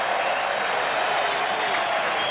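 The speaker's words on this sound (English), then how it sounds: "The crowd are well and truly warming to the home heroes." A stadium crowd at a rugby league test match between New Zealand and Australia at Mount Smart Stadium applauds, a steady, dense roar of clapping and cheering heard from a distance, with a commentator's voice faintly mixed in.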